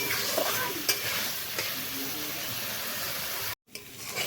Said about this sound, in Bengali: এইভাবে একটু আমি এটাকে বেশ ভালোভাবে কষিয়ে নেব